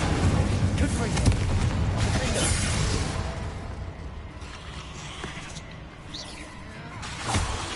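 Fire spell cast in the Hogwarts game: a loud whooshing burst with crackling booms in the first seconds, then a quieter rumbling tail and another flare near the end, with no talking.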